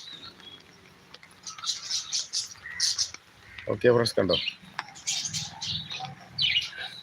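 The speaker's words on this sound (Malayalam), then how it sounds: "നമ്മളെ കിളികളൊക്കെ അവിടെ ഇരിപ്പുണ്ട്" Birds chirp in repeated short bursts outdoors, fairly close, and someone speaks briefly in the middle.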